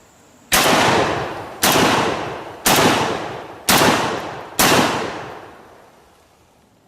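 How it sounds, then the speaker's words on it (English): An AR 12 12-gauge shotgun fires five rounds in succession at a range, each a loud close blast with a ringing decay, spaced about one second apart with no talk between shots. "Range is hot, 5 rounds, continuous shot."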